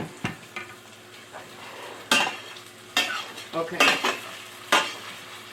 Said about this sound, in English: what I'm going to do is I'm going to mix my potato